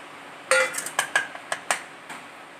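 A plate being handled gives a series of about eight sharp ceramic clinks and knocks, uneven in spacing, close and fairly loud over a quiet background.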